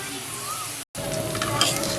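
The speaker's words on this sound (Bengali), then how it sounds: "দিয়ে দেবো কিছু তিল সাদা কালো এটা আমি একটু ভেজে নেব এই পেঁয়াজের সাথে" White and black sesame seeds with whole cumin fry alongside onion in hot oil, giving a steady close sizzle that cuts out briefly midway, then resumes.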